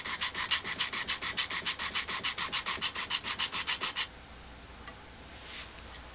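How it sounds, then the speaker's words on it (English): A diamond needle file rasps back and forth across steel edges of a homemade train track anvil in about twenty quick, even strokes, close up, then stops into near silence. "got this little diamond needle file here. I'm going to try touching these edges up"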